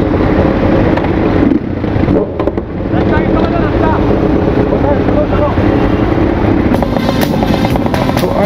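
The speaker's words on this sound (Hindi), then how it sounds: "अरे क्या ही आवाज़ है भाई, सबसे लाउड बाइक है ये।" A very loud motorcycle engine rumbles and revs continuously up close at India Bike Week 2023, with wind buffeting and voices faintly mixed in.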